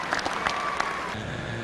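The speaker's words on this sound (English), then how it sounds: "Let's give our super stalkers a nice round of applause." Spectators at a 2005 NFMS diesel super stock tractor pulling event in Freedom Hall, Louisville, Kentucky, give brief, moderate applause, a short burst of clapping heard from a distance in a large hall.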